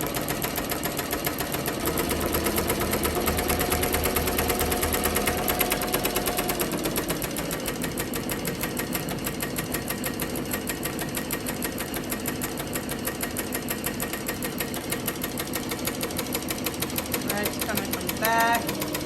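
A Ricoma MT 1501 embroidery machine sews a satin stitch onto a dad hat, giving a steady, fast mechanical whir and rapid needle rattle that runs without a break, with talk heard over it.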